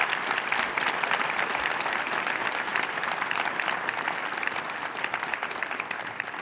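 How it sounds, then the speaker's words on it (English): A steady round of audience applause for students at a class pinning ceremony, dense continuous clapping that stays even and moderately loud from start to finish. "let's give our students a round of applause for all of their hard work"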